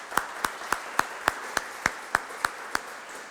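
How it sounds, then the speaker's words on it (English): Sparse clapping at a 50th anniversary reception: about a dozen evenly spaced, fairly faint claps in a steady rhythm, sounding like only one or a few people. "how about a round of applause for all the people at the Evaluation Center."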